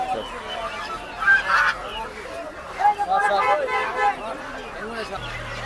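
Chinese geese honking amid the bustle of a Tongi poultry market, with several loud calls rising over steady crowd chatter and talk nearby.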